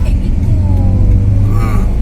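A loaded truck drives along an asphalt road, a loud, close, low engine rumble with steady road noise and a voice speaking over it.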